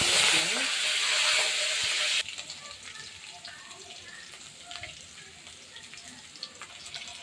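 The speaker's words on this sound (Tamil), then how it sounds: "இப்போது நம்ம கடுகு காஞ்ச மிளகா கருவேப்பிலை பூண்டு போட்டாச்சு. நல்லா சவக்க வதக்கட்டும்." Mustard seeds, dried red chillies, curry leaves and garlic sizzle loudly in hot oil for the first two seconds, then settle into a softer, steady frying hiss with small pops and crackles for the rest of the clip.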